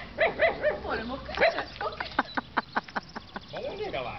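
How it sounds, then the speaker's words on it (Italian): Dog barks, a malamute or setter/pointer, sound in a sharp rhythmic run of about eight close, fairly loud yaps after people chatter excitedly, with talk resuming at the end. "Quindi sta abbaiando per la prima volta."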